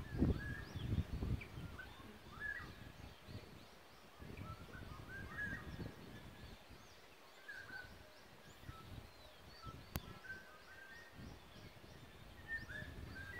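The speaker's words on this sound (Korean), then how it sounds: "새소리 들리시죠?" Birds chirp and sing in repeated short phrases at a distance, over quiet outdoor ambience with a few rustles near the start.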